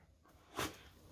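A single short, sharp puppy sneeze bursting out of quiet room tone on a couch, close by.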